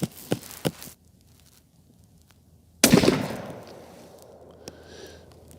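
A Weatherby Model 307 rifle firing TTSX ammunition at an outdoor range gives one loud, sharp close shot with a rumbling decay, preceded by two fainter pops.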